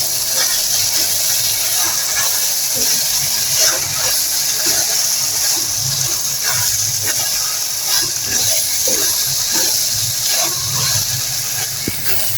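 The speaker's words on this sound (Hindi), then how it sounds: "हाई फ्लेम पर जो है ना इसको 2 मिनट भूनेंगे, बिल्कुल इसी तरह हाई फ्लेम पर।" Okra (bhindi) frying in a pan on a high flame, giving a loud, steady hiss and crackle that runs the whole time, with faint stirring clatter underneath.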